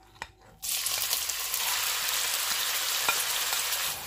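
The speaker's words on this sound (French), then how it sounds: "Bon, là je vais mettre l'huile. Je vais ajouter les oignons" Onions dropped into hot oil for a minced-meat sauce burst into a loud, sudden sizzle after a short quiet moment, then hold a dense, steady frying hiss with faint scrapes.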